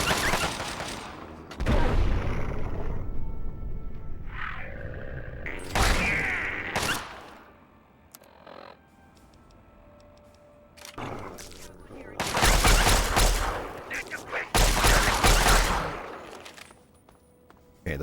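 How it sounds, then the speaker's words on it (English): Laser gun fire in the video game Fallout 3, bursts of rapid loud shots in clusters separated by quieter stretches, sounding sharp and close with game background noise between volleys. "Sometimes the laser gun feels a little bit louder than it should be."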